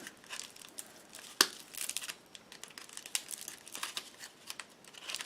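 Aluminum foil being cut with wire cutters, heard as close, quiet crinkling and crackling with one sharper snip partway through. No voices are present.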